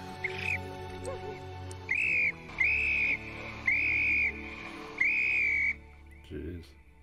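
Shrill whistle blown repeatedly in a scene from the 1997 film Titanic, four or five sustained blasts in a steady rhythm, with brief talk before and after.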